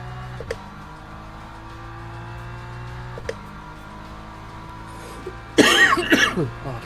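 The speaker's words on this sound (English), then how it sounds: "Oh, bloody cough." Sharp coughs from a person at a sim racing stream: two single short coughs spaced a few seconds apart, then a louder burst of coughing at the end over a steady low engine drone.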